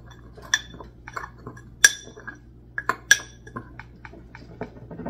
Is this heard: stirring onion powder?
yes